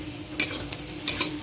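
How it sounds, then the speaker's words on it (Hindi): Onions frying in oil for aloo chole, a potato and chickpea curry, with a soft steady sizzle and a few louder stirring scrapes at close range. "सभी को हम अच्छी तरह से भून लेते हैं,"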